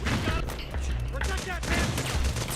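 Dense, continuous gunfire from the video game Metal Gear Solid 4 rattles through a battle scene, with shouted in-game voices mixed over the shots throughout.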